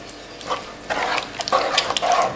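Tuscan crostini topping being stirred in a pan, soft scraping and wet sloshing strokes in an irregular rhythm, close up with no talking.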